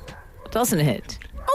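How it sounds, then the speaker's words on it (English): A whippet dog barks and yips at a window in short bursts, mixed in with people talking over it. "that's my dog barking at the window"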